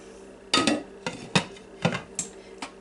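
A lid goes onto a crock pot, giving several sharp ceramic and glass clinks and knocks spaced irregularly, close and fairly quiet.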